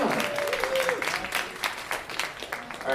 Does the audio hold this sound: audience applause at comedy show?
yes